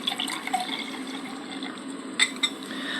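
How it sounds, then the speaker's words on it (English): Clear, colorless liquid poured into a glass, a soft continuous filling gurgle close by with a couple of faint clinks near the end. "Let me pour a liquid into the glass."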